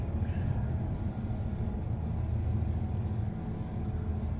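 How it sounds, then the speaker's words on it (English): In the Train Life video game, a train approaches with a low, steady rumble that stays at an even level throughout. "An approaching train."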